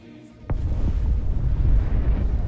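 Firecrackers bursting in the sky: one sharp crack followed by a heavy, rumbling low roar that lingers and swells for a couple of seconds, fairly loud and close, no talking.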